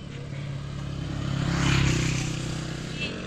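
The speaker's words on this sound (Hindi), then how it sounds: "हम मोटरसाइकिल पे आए हैं" Motorcycle on a village road in rural India, engine hum rising and swelling as it passes near, then easing off, with some rattle and scrape over about three seconds.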